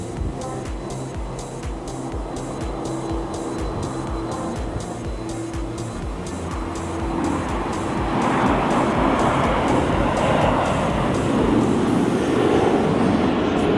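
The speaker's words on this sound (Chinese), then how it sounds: "这边真的连续好多飞机起起落落哎" A steady jet engine roar builds and grows louder toward the end, like an airliner passing low on approach, with no voices.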